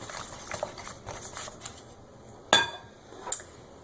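A spoon stirring German chocolate pie filling in a bowl, with egg yolks just mixed in, gives soft faint scraping and two sharp clinks against the bowl, close and alone.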